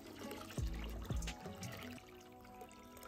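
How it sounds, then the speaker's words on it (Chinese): Water pours over washed basmati-style rice to soak it, a short splashing pour with two brief surges in the first second and a half, then a softer trickle fading out, with no talking. "加水没过大米，浸泡一小时"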